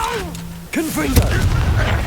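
A Confringo blasting spell in the Hogwarts Legacy video game goes off with a sharp blast and crackling burst, following a swooping magical whoosh, loud and close amid combat effects.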